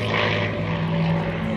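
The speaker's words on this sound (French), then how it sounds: "il y avait un avion mythique que vous voyez évoluer au-dessus de nous aujourd'hui" A North American P-51D Mustang, a propeller warplane at the La Ferté-Alais air show, drones overhead with a steady, loud, throbbing engine tone that carries on without a break.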